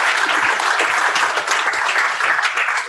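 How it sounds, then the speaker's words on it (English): Sustained, dense applause from a meetup audience at a Docker London gathering at Condé Nast, steady and loud throughout with no talk over it. "Give a very big round of applause for Mark"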